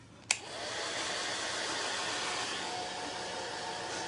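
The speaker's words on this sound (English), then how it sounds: "we're gonna find our trusty hair dryer" A hair dryer clicks on and blows with a steady, loud whooshing roar that holds constant to the end.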